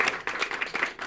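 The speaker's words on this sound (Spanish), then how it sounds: "pero aplaudid, de todas maneras" An audience at a talk claps in a burst of fast, uneven applause, several hands rattling together nearby for about a second.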